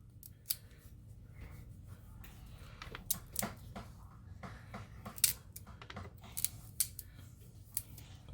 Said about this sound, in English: And then you want to get your knife. You want to peel it.